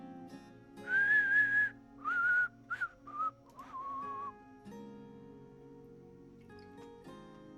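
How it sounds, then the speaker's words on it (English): A person at home whistles a short video game tune in several clear rising and falling phrases. The whistling is close but soft and sits over quiet, steady looped music that keeps playing after the tune stops. "I wish I could whistle better."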